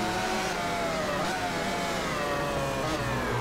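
A racing motorcycle in the MotoGP 15 video game accelerates steadily at Termas de Río Hondo, its engine note holding a continuous, fairly loud mid-range whine with slight rises, with no talk over it.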